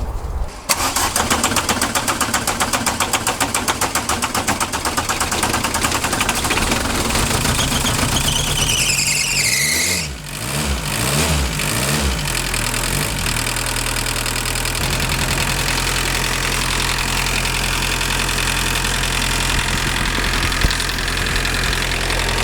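The RA diesel engine of an MK2 Golf GTD idles loudly and close, with a steady knocking rattle while its injectors are bled one at a time. Midway the note briefly dips and wavers before settling back to a rough, even idle.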